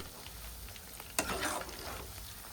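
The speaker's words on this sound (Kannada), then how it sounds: "ಸಿಗಡಿಯನ್ನು ತುಂಬ ಫ್ರೈ ಮಾಡಬೇಕಂತ ಇಲ್ಲ," Prawns sizzle as they fry in a pan for prawn chilli, a sudden burst of hissing rising from a quiet background and then holding as a steady, close crackle.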